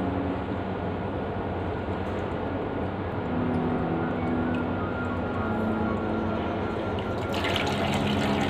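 Pure water pours steadily from a 5-litre can during a coolant change on a Bajaj Pulsar 200 NS, a continuous close gurgling splash with a faint tonal hum underneath.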